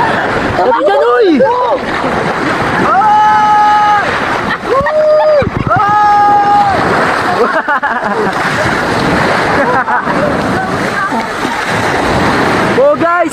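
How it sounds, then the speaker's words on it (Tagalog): Strong sea waves splash and surge against a boat off Tangalan, rushing water and wind roaring continuously while excited voices shout and talk over the noise. "Sobrang lakas ng alon!"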